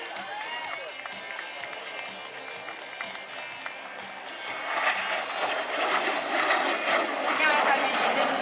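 A 1984 Aero Vodochody L-39C jet with an AI-25TL turbofan roars past at an air show, its steady whine swelling louder midway over a crowd, with a public-address voice talking.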